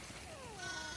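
Sheep in a farm area of the video game The Last of Us Part 2 give a single short, faint bleat with a wavering pitch over soft background ambience.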